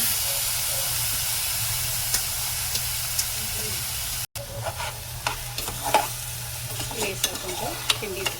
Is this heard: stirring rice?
yes